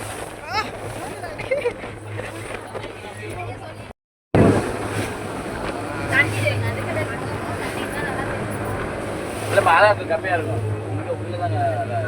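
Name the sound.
boat moving through water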